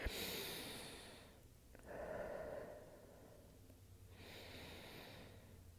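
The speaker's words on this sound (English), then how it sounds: "So 3 nice deep breaths." Deep breaths taken during a mat Pilates stretch, three slow cycles of soft, airy inhales and exhales, faint and close, alone without talk.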